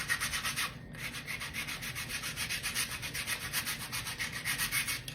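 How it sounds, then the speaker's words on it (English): Sandpaper rubs back and forth over wood in quick, even strokes, a close rhythmic scratchy hiss that pulses steadily with a brief pause near the start. "And then we're just going to sand."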